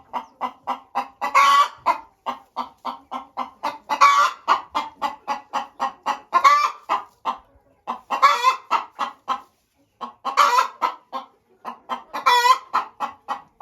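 Ameraucana chickens cluck close by in a loud, rhythmic stream of short calls. Louder squawking bursts recur every couple of seconds.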